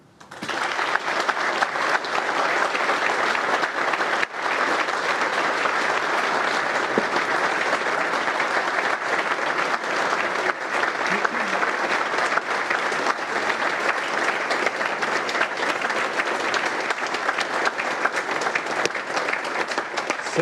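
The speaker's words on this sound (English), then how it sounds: "The applause might go on forever otherwise." A large audience at the National Press Club applauds after an address by the Opposition Leader, a dense, steady roar of clapping that carries on without a break for about twenty seconds.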